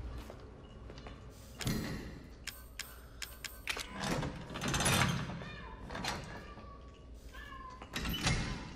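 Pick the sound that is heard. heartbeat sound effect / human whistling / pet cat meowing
pet cat meowing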